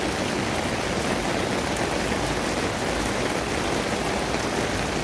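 Heavy rain pours in Mongkok, Hong Kong, near the KCR station, a dense, steady hiss of drops on surfaces that stays loud and unbroken throughout.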